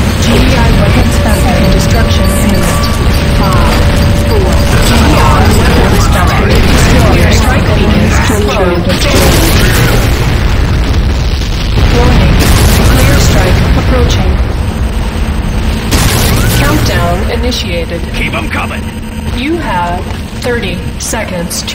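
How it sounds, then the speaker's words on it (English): A GDI weapons factory blowing up in the Renegade shooter, loud heavy booms and rumbling blasts layered with crackling debris and battle noise throughout, under a voice speaking. "Warning, GDI weapons factory destruction imminent."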